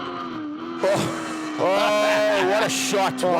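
A Bridgestone Thunderbike race motorcycle downshifts on the Kyalami track, its engine note rising and falling with sharp revving changes under an excited commentator's voice.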